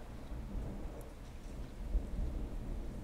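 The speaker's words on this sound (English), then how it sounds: "Ooh, thunder outside." Heavy rain pours steadily outside during a thunderstorm, with low rumbling thunder rolling under a dense, continuous hiss and no voices.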